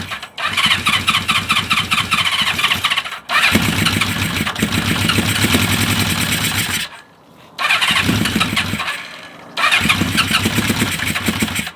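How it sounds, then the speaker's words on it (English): A Honda 550 motorcycle engine is cranked and started several times in a row, each attempt a close, loud burst of engine clatter separated by short pauses and one longer gap of silence. "I tried starting the 550."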